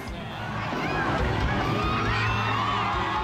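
Crowd at a lively Catholic Mass styled after evangelical services, a dense, steady roar of many voices and cheering that swells slightly and stays loud throughout.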